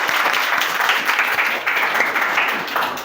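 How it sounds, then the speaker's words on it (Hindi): Students in a classroom clap for a classmate, a brief burst of dense, lively applause that stays even and close throughout. "इसलिए सान्या के लिए एक बार ताली हो जाए"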